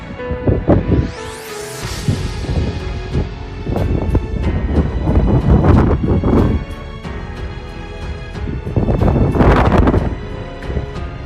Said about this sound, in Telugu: గాలి ఫోర్స్ మామూలుగా లేదు, కింద పడిపోయేలాగా తెలుసా.